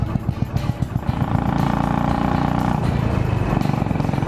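A Royal Enfield Bullet motorcycle pulls away from a traffic light, its single-cylinder engine thumping in a loud, steady pulsing beat that rises in pitch and then settles into a continuous rumble while riding on.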